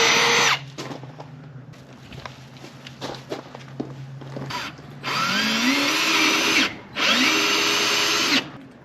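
Power drill driving screws into a DIY fiberglass flare on a camper van, with short bursts and handling knocks first, then two long, loud whirring runs separated by a brief pause.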